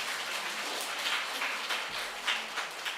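Church audience applauding a reporter at a family worship service, a steady broadband clapping that fills the whole stretch at moderate level with no voices over it.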